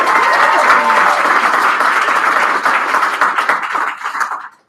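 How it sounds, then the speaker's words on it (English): Audience applause greeting a special guest at a live Q&A event, a dense burst of many hands clapping close and loud, holding steady for a few seconds before quickly tapering off. "please give a round of applause for our very special guest"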